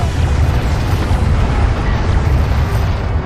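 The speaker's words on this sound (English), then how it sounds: "A hostile turret has been destroyed." A hostile turret explodes in the real-time strategy game Homeworld: Deserts of Kharak, a loud, dense, rumbling blast that rolls on steadily for several seconds with no speech.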